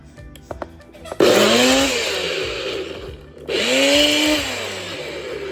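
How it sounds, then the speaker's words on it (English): A Nutribullet blender running in a home kitchen, loud whirring in two bursts, the first about two seconds, then a short pause and a second rising spin, close and alone after a few faint knocks. "now we're about to put this in the Nutribullet"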